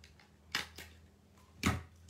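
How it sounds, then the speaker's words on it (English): A hand stapler is pressed through heat-embossed chipboard for a vintage handmade card, giving two crisp close clicks followed by a louder, heavier stapling thunk, with no voices. "And again, staple it."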